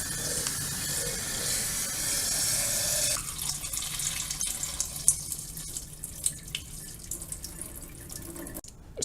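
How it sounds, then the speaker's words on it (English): Tap water runs into a bottle of sprouts for a few seconds, then cuts off, leaving scattered drips and small splashes as the bottle drains, with a brief louder rattle near the end. "So I'm going to go ahead and rinse this, drain it, and we'll come back tomorrow morning."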